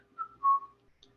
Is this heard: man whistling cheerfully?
yes